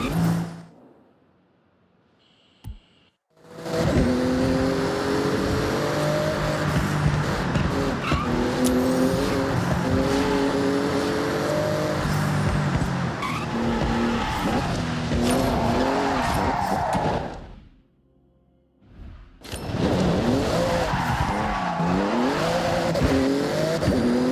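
A Porsche in the Forza Horizon racing game tears through a speed zone, its engine roaring steadily with tire squeals and skids, broken by two short near-silent gaps before the car noise returns at full volume.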